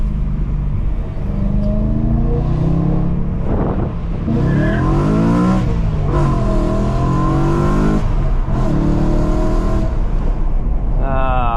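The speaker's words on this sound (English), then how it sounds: "that beautiful OEM Plus style exhaust note for the naturally aspirated" BMW E92 M3 with a manual gearbox and a naturally aspirated 4.0-litre S65 V8 running an OEM Plus style exhaust, revving loud and close through several rising pulls with shifts between them, a brief dip near four seconds.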